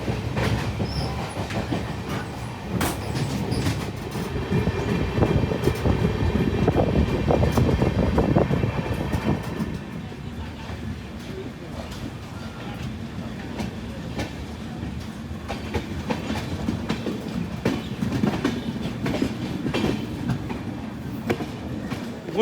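A passenger train from Benaras toward Kolkata rolls steadily along the track, a continuous rumbling roar with rhythmic wheel clatter heard from inside a carriage, loudest in the first half before settling into a steady run.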